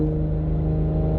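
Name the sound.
Toyota Supra accelerating at full throttle in valet mode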